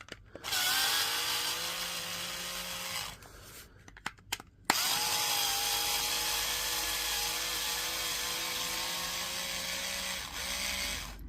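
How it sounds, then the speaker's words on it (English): A cordless power tool spins out screws from a power tool battery pack, its whine rising in two long runs broken by short clicks and a pause, loud and close with no talk. "We'll have to take the screws out of this one because there's actually screws on this one."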